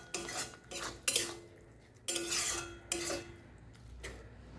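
A spoon scrapes around a pan while a gram flour mixture with chhena is stirred, several distinct bursts of rasping metal-on-pan strokes separated by brief pauses, close and with no talking.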